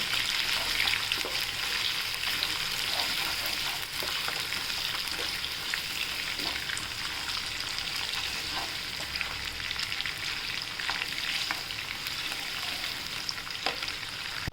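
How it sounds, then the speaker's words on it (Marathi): Onion fries in a pan for tomato rice, a steady, dense sizzle that holds loud and even throughout with no voices. "कांदा टाकूया आपण हा छान परतून घेऊ"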